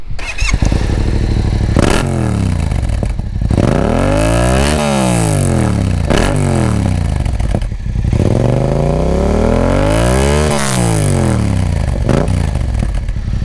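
A motorcycle fitted with an Akrapovic carbon exhaust and its baffle in place revs loudly and close, the engine note sweeping up and falling back in repeated throttle blips over a steady idle.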